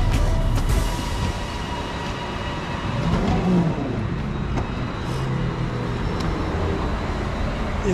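A metro train rumbles and rolls past on an overhead track with a broad mechanical roar, steady and fairly loud amid surrounding street noise.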